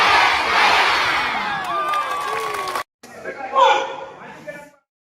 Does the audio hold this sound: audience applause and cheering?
yes